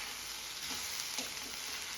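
Ginger garlic paste frying in a pan of hot oil, producing a steady, close hiss with a few soft stirring scrapes underneath.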